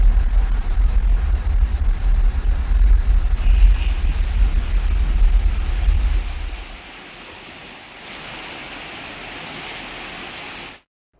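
Rough sea waves roar and crash against the Udupi coast in wind and rain, a heavy, close, booming wash that drops abruptly to a quieter, steady surf hiss.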